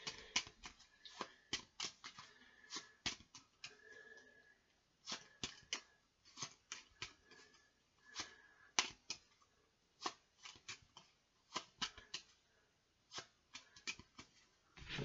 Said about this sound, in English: So let's give me a chance to shuffle the Superstar Action deck.